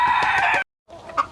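A silkie chicken clucking and crowing close by, a sustained throaty call with pulsing clucks, a brief silence, then a few softer clucks.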